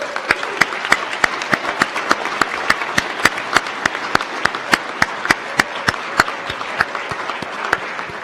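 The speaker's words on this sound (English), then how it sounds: "So please give everyone a round of applause for coming today." A graduation ceremony audience applauds steadily, with a dense wash of hands and a few sharper, louder claps standing out in a regular pattern, sustained without talk.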